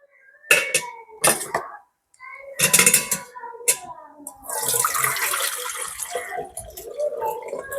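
A milk and yogurt mixture pours through a strainer while yogurt is made at home. Short splashing pours come close by in separate bursts, then give way to a longer, steadier stream of running liquid.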